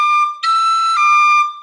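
Tin whistle plays three clear notes from section two of the Irish tune The Hag With The Money, one tongued and the others slurred, bright, close and steady with no voices.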